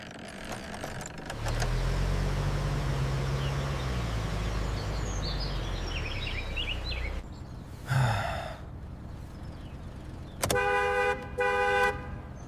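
A taxi rumbles up nearby and stops, followed by a couple of short horn honks, with brief breathy sounds in between.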